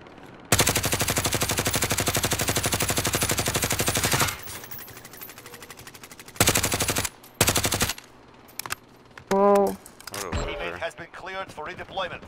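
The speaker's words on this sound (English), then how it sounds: "there's gunfire happening" Bursts of rapid automatic gunfire in Call of Duty: Warzone, loud and close, followed by scattered single shots and brief game sound effects.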